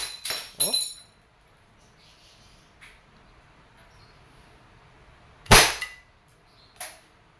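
An Umarex Glock 17 Gen 3 airgun fires at a metal plate, giving sharp, loud cracks with metallic ringing, two near the start and another burst later, with faint sounds between them.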